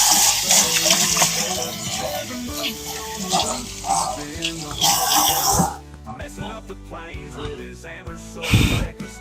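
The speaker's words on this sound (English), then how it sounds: "Let me rinse my hands off here." Hands rinsed under a running kitchen tap while preparing Texas-style brisket seasoning, a broad steady water hiss for several seconds that cuts off, followed by clatter and a voice speaking nearby.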